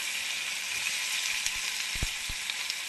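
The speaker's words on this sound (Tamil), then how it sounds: "அப்புறம் வெங்காயம் போட்டு வதக்கிக்கோங்க." Chopped onions sizzle and fry in hot oil with whole spices in a pan for a Tamil-style vada curry, a steady close hiss with a few soft clicks of stirring, no voices.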